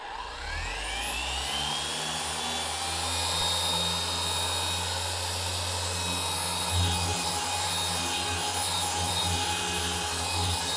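Compressed air blasts aluminum oxide polishing dust off a painted aluminum auto part during detailing, a steady loud hissing roar that runs unbroken for about eleven seconds, close up and with no talk.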